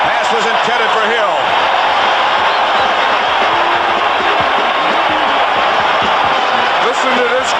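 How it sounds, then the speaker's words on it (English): A large stadium crowd roars continuously at a 1981 NFL game between the Dallas Cowboys and Philadelphia Eagles after an interception, a dense, loud sustained cheer filling the whole stretch. "Listen to this crowd and the excitement here."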